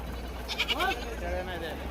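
Dhangari goats at a Saturday livestock market in Shirur, Pune district, giving a couple of wavering bleats near the mic over steady crowd murmur and background voices.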